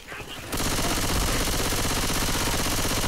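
Rapid, continuous gunfire from Left 4 Dead bursts in after a short quiet moment and roars on densely and loudly to the end, with a player's voice briefly heard.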